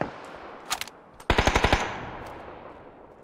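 Gunfire in the video game PUBG: a couple of separate shots, then a rapid burst of about six automatic rounds that rings out and fades into a reverberant tail.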